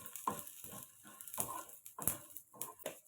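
Cumin seeds drop into hot oil for a tomato and peanut chutney, giving quiet bursts of sizzling and crackling in short uneven pulses that fade between each hiss.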